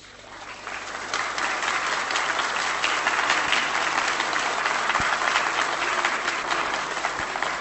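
Deputies in the Polish parliament applauding in a sustained, dense roar of clapping that rises within the first second and holds steady throughout, with a few sharper claps standing out.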